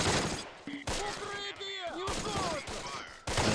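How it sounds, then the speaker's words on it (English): Rapid bursts of rifle and machine-gun fire in the World War II strategy game Close Combat: The Longest Day, several sharp volleys separated by brief gaps, with someone talking over parts of the shooting. "With all the crazy shooting here."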